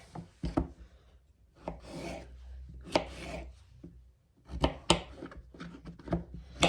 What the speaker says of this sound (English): So I just cut it in half and cut it in spears.